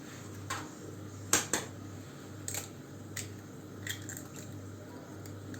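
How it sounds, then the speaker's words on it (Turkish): Two farm eggs are cracked into a bowl for crepe batter, giving a few sharp close taps and cracks spread out over a quiet kitchen background, with no talking. "İki tane de yumurta kıracağım."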